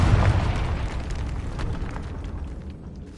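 Fiery explosion spell in Hogwarts Legacy bursting with a loud boom, then a rumbling roar that gradually fades.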